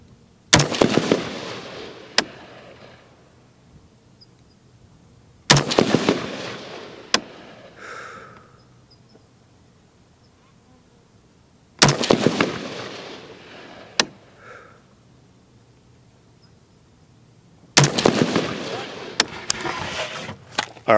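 Rifle shots fired at a target through a 1-6x24mm LPVO scope, four loud sharp reports spaced several seconds apart, each ringing out outdoors with a long decaying echo and a fainter follow-up crack.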